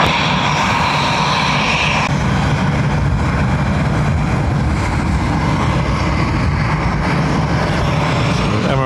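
An Emirates airliner on approach to land at Dublin Airport in high wind fills the air with a loud, continuous engine roar that stays steady and close throughout.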